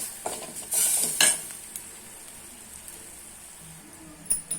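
Spices sizzle and crackle in hot oil while a spoon stirs and scrapes the pan, the frying loud at first and then settling into a steady hiss.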